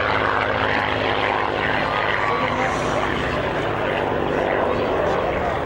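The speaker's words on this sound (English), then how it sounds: "Here they come, in from right, coming down on a low path, 109 Gustav." A Messerschmitt Bf 109 Gustav and a Spitfire make a very low airshow pass at Middle Wallop, a loud, steady roar of piston aero engines close by, with a commentator's voice under it.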